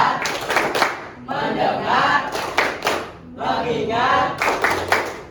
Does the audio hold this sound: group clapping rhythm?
yes